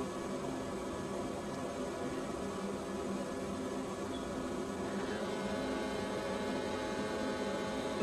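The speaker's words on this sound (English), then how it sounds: "The pump starts" A Kane 425 combustion analyzer's pump runs during a room carbon monoxide test, giving a constant even mechanical hum with hiss that holds steady and fairly quiet throughout, with no other sounds over it.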